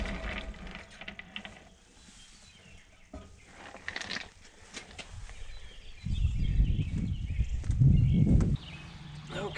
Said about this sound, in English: Yeah, it's still running. It's a little louder than it was when I started it